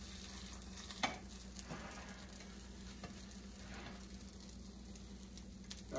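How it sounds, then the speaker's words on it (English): Runny eggs being folded in a hot pan, a steady soft sizzle with faint scraping and stirring touches, close and fairly quiet, no talking. "time to fold the eggs, I think."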